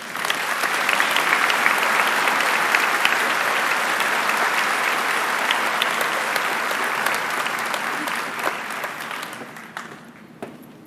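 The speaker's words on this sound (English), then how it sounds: "Allison, I would ask that you all join me in honoring her with a round of applause" An audience at the 2011 Wadsworth High School commencement breaks into sustained applause that stays loud and dense for about ten seconds, then thins and fades out.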